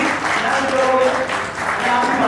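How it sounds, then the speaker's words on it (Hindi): Applause from the crowd at an IT academy's sixth-anniversary annual meetup, a thick, continuous wash of clapping that fills the short clip at close range with no gaps. "एक दफ़ा तालियों की आवाज़ मैं चाहूँगा सब दिल से"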